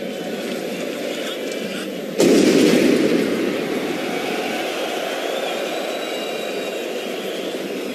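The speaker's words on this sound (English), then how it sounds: "They thought it was some kind of explosion." An explosion outside the Stade de France during the Paris attacks: one sudden, loud boom that breaks over steady distant crowd noise, then a rumbling tail that slowly fades.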